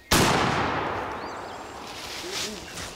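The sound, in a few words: gunshots on a hunt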